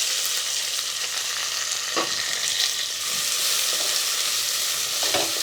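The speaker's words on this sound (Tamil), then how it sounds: "இப்போ வெங்காயம் நல்லா வதங்கட்டும்" Large onions sizzle steadily in hot oil, loud and close, with a constant frying hiss and a few soft spatula strokes as they are stirred.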